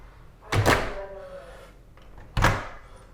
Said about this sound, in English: when you close and lock the door